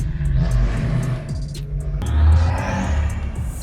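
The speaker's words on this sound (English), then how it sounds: "Diesel. Sounds like Dave's X5" A steady, low diesel engine rumble from an SUV close by at a car meet, with a deeper surge partway through as it idles and revs, heard alone.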